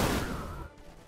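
Fireworks spell effect in the Age of Wonders III strategy game: a brief loud crackling burst that quickly fades into a soft hiss.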